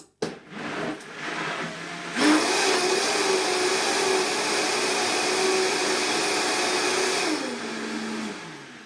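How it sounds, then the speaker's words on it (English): A blender whizzes raw celery and fennel soup with salt, a steady loud whirring whine that holds for several seconds after a few short knocks, then winds down at the end. "So I've just added a little bit more salt, so I'm just going to whiz it up."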